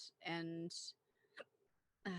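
A person hiccups once or twice in quick succession, short sharp voiced bursts close to the mic, separated by brief quiet gaps with faint breathing.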